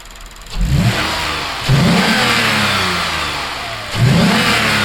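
A Toyota Mark X GRX133 with a 2GR-FSE V6 and a newly installed intake revs up three times from idle, each loud, close blip rising and holding before dropping back.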